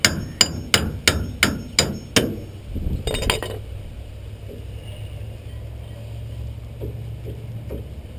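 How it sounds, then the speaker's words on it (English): A hammer strikes a bolt in a rear shock mount on a 2001 Ford Ranger pickup, giving seven sharp metallic blows in quick, steady succession, then a brief scraping clatter and quieter shop noise. "just gonna hammer the bolt out"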